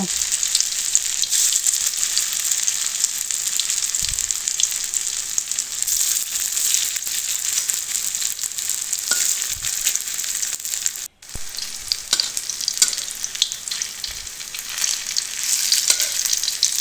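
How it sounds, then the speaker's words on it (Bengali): Bitter gourd leaf fritters fry in a pan of hot oil with a loud, continuous crackling sizzle, a few soft knocks of stirring and a brief break partway through. "ওই তেলের মধ্যে বড়াগুলো এক এক করে দিয়ে দেব।"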